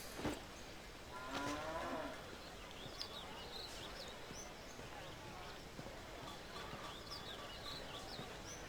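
Faint cow moos in the video game The Bard's Tale rise over a soft, busy background with light chirps and clopping, at low volume and somewhat distant.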